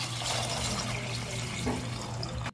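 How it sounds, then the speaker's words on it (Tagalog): Water pours from a tap into a pot of washed chicken feet, a steady close splashing gush that cuts off abruptly at the end. "lagyan po natin ito ng tubig para mapakaluan na"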